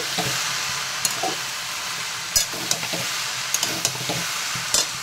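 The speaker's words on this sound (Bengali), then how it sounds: "পোস্তর আলুটা অনেকটাই ভাজা ভাজা হয়ে এসছে" Potato pieces frying with poppy seeds for aloo posto, a continuous close sizzle broken by sharp scrapes and taps of a spatula stirring the pan, with no voices.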